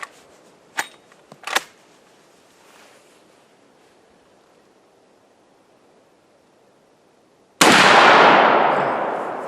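A Marlin 1895 lever-action rifle in .45-70 fires a single loud, close shot near the end with a long decaying roar, preceded by a few faint clicks and sharp handling sounds over near silence.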